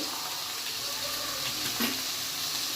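Ridge gourd, tomato, coriander and tamarind fry in a pan with a continuous soft sizzle and hiss, a faint clink partway through, steady and close with no talking.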